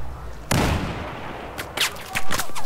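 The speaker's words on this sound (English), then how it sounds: "He's shooting at us." Gunfire in the video game Battlefield 4: a sharp, loud shot burst followed by scattered quicker cracks and bullet whizzes over a low background rumble.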